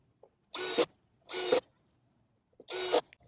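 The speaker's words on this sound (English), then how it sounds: "I'm going to go ahead and put the screws in." Three separate bursts of a power drill driving screws into a raised garden bed panel, each lasting about a quarter second with a whirring, ratcheting buzz, separated by short quiet pauses, close and fairly loud.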